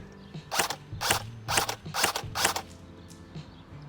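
A G&P M16A1 airsoft rifle fires five single shots in semi-automatic, each a sharp mechanical crack with a whirring motor cycle, evenly spaced about half a second apart, close up.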